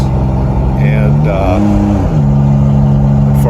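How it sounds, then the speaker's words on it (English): A pickup truck with its muffler fallen off drones loudly and steadily on a drive toward the mountains near Madrid, with a brief rise in engine pitch midway, and someone speaks briefly over the rumble. "That's why this truck is so noisy."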